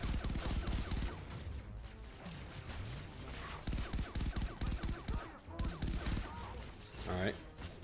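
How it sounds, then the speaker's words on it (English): Rapid bursts of gunfire from the Far Cry 3 Blood Dragon video game crackle in fusillades, mixed with game voices talking over the shooting. "Shoot him in his ammo pack, brother."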